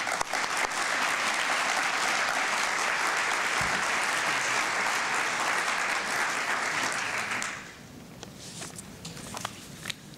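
An audience at a Yom HaShoah 2017 event applauds steadily for about seven seconds to welcome the Lithuanian ambassador, then the clapping drops off abruptly, leaving a few scattered claps and room noise.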